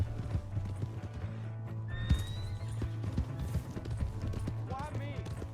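Horse hooves clip-clopping and a whinny in the video game Red Dead Redemption 2, steady hoofbeats under talking voices with a sharp neigh rising partway through and another near the end.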